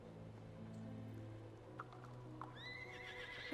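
A horse in the video game Star Stable whinnies in a rising, drawn-out neigh near the end, over a steady bed of hoofbeats and ambient music.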